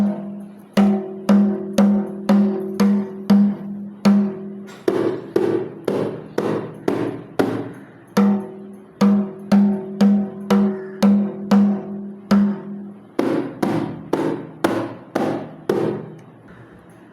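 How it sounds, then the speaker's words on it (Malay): Kompang frame drum beaten with the menyilang technique, sharp hand strikes in a quick steady pattern with alternating ringing open and flatter muted beats, repeated in phrases with brief pauses, close and clear with no talk. "Untuk teknik asas paluan yang kedua pula iaitu teknik menyilang"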